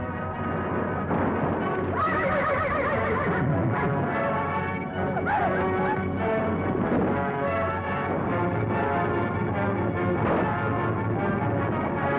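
Horses whinny and neigh repeatedly over a dense rumble of hooves, loud and close, with clattering and crashing mixed in.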